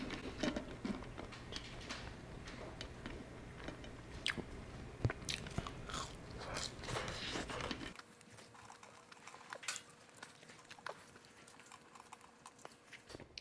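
Someone eating cold french fries up close, a string of soft crunchy bites and chewing sounds with a faint steady background hum that drops away partway through.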